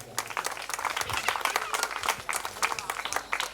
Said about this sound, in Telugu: చప్పట్లు కొట్టి అయ్యగారిని ఆహ్వానించుకుందాం